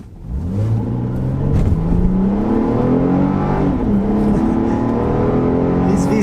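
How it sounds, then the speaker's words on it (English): A 2012 Acura TL SH-AWD with a V6 engine pulls away from a dead stop, the engine revving loudly and climbing steadily through the gears in a continuous, close roar recorded from inside the car. "let's do an acceleration here from a dead stop."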